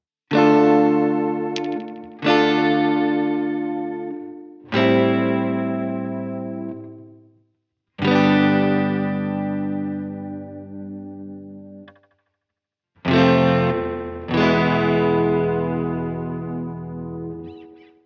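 Electric guitar played through a Sequential Pro 2 with filtered, panned delays: several separate strummed chords, each ringing out and decaying with smeared, chorus-like echoes, with pauses between them.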